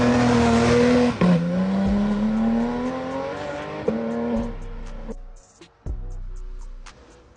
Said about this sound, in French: je vais vous mettre l'accélération de la GT3 RS